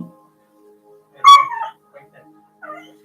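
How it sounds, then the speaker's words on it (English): A dog whimpers and yips in the background of an indoor room, one high-pitched whining cry followed by a couple of fainter yelps, heard alone without talk. "That's my dog in the background."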